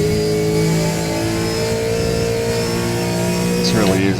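A Gen3 V8 Supercar revs loudly and continuously in the Assetto Corsa racing game. The droning engine note holds steady and rises slightly near the end.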